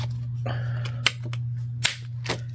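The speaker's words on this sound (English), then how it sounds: "see if I can cut my knots real quick" Scissors snip through knotted string during a junk journal craft session: a few sharp, close clicks spaced about a second apart over a steady background hum.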